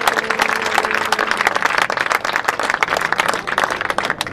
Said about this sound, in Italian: il nostro pubblico le dedica ancora un bel applauso per la sua